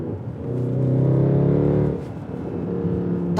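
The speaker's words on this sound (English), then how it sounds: "That's a factory exhaust." A Mercedes C63 AMG saloon on its factory exhaust revs hard, a loud, close, deep engine note climbing and holding for about a second, then easing back to a rumbling idle-like burble.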